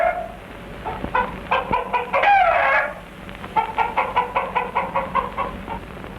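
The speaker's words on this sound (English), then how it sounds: "The favorite Dayak sport is cockfighting." Roosters spar at a Dayak cockfight, giving close, loud rhythmic clucking and squawking with one strained crow-like call in the middle, followed by a steady run of repeated clucks.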